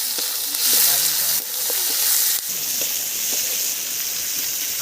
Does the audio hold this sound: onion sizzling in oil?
yes